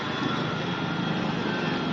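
A Mahindra Novo 755 DI four-wheel-drive tractor engine runs with a steady, close mechanical drone and a faint pulsing throb underneath, holding even for the whole moment.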